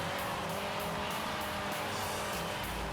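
Racing car engines roar and whine in a Dreamcast racing video game, a dense, loud, continuous drone of revving motors with tire noise, pressed close and filling the whole stretch.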